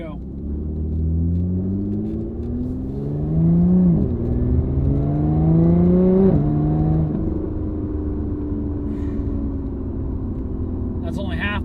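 A Lotus Evora GT accelerates at half throttle, its engine note climbing steadily through a gear, dropping sharply at a shift, then rising again before easing off, with someone talking over the interior drone.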